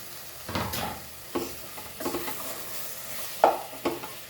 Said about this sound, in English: So the tomatoes are nicely cooked. Now we'll add our potatoes.